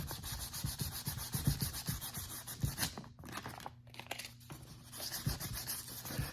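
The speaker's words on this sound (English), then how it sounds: "when it's dry, you can lightly sand on it" Dried Viper air dry filler is lightly sanded by hand in steady back-and-forth rubbing strokes, close and moderately loud, with a brief pause partway through before the strokes resume.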